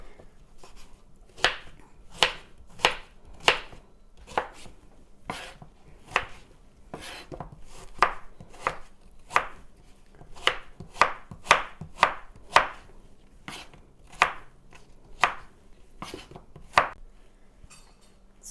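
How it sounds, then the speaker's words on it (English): A knife chopping a sweet potato into small squares on a cutting board, sharp close knocks in a steady, slightly uneven rhythm, around twenty cuts with short gaps between them. "So here's my sweet potato chopped up in little tiny squares."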